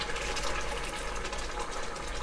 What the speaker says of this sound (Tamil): ஒரு சின்ன 1/4 கப் அளவுக்கு புளி கரைச்சல் ஊற்றுறேன்.